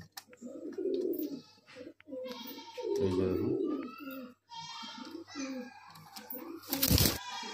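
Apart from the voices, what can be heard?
Madrasi high flyer pigeons cooing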